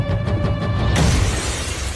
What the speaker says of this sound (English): shattering the glass